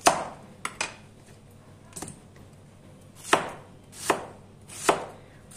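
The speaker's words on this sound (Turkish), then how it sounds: "Ardından arkadaşlar karalahanamızı doğramaya başlayalım." A knife chops kale on a cutting board for a homemade pickle, with about six sharp, close chops coming in an uneven rhythm and short pauses between them, and no talking.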